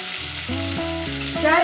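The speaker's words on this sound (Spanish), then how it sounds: "Y vamos a freír en ella el tocino" Bacon sizzling and frying in a hot pan, a steady crackling hiss that swells louder toward the end, with low clanks of the pan being shifted.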